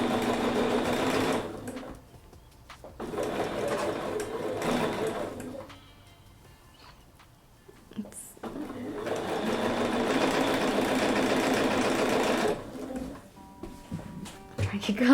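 Sewing machine stitching quilt fabric, running in steady bursts of rapid mechanical chatter that stop and start several times, with short quiet pauses and a voice talking in the gaps.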